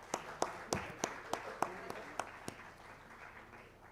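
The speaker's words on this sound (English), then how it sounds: "Give a big round of applause for." Audience applause at an institute's silver jubilee ceremony: scattered individual claps stand out over a faint, diffuse patter from a hall of people, fading out toward the end.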